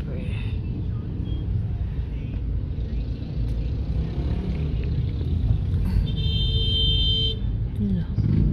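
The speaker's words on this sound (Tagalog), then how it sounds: "Grabe yung traffic dito." Heavy, congested road traffic gives a steady, close engine rumble throughout, with a brief horn-like tone partway through, while people talk over it.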